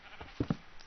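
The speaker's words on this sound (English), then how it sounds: "You can hear some sheep." A couple of short sheep bleats from the video game Minecraft, two quick calls close together, fairly faint over a quiet background.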